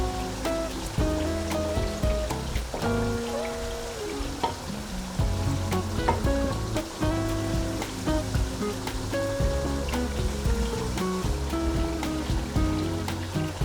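Lamb kofte meatballs fry in a pan for a curry, giving a loud, continuous sizzle and crackle throughout, with music playing over it and no talk.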